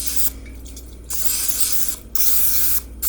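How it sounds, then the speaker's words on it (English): Vegetable cooking spray is sprayed onto a muffin top pan in three short, loud hissing bursts separated by brief pauses, close to the microphone. "if you're using your vegetable spray or Pam, that's how you would do that"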